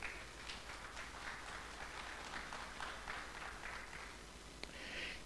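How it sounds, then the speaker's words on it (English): Faint, distant applause from a conference audience at a cloud computing tech event, a steady patter of many hands sustained throughout, recorded quietly in a large hall. "I think that deserves a round of applause."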